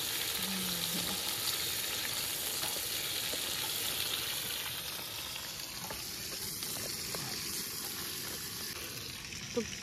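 Potatoes and cauliflower frying in a pan, a steady close sizzle and crackle throughout, with faint stirring noises and a brief low voice early on.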